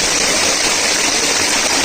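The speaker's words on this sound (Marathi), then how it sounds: "आता जरा मोठ्या धबधब्यात जायचं आहे" Dense, steady roar of rushing water at Sadashivgad waterfall filling the whole range, continuous and loud, like falling water close by with no breaks.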